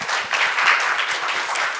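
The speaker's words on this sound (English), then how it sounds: "Let's give him a round of applause." Panel discussion audience at an education conference applauding a speaker, a continuous, fairly loud burst of many people clapping throughout.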